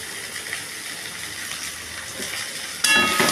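Sweet pulao with nutmeg and mace stirred in a pan, a low steady sizzle and scraping that turns louder and more watery near the end, with no voices.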